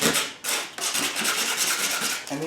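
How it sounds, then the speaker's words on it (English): Light sanding of surface rust on a Mercedes Sprinter van, close rhythmic rasping strokes repeated several times in quick succession. "we're just going to very lightly sand just to remove the surface rust"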